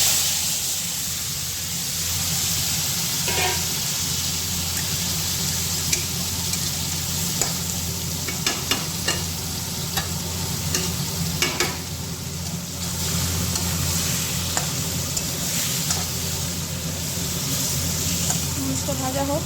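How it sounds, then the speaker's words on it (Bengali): Singhi fish frying in hot oil in a home kitchen, a steady dense sizzle with scattered sharp crackles and pops running throughout at close range. "এখানে তেল অলরেডি গরম হয়ে গেছে, আমি মাছগুলো ভেজে নেবো।"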